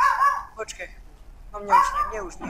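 A dog barks a few times indoors in the same room as a Minecraft gaming session, short yips coming between bursts of nearby talk.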